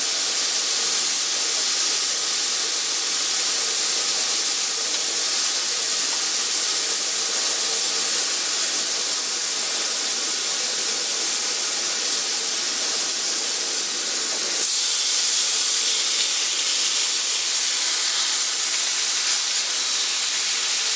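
Thick-cut bacon sizzling in a cast iron pan, a loud, dense, continuous hiss that holds steady for the whole stretch, close up and with no talking.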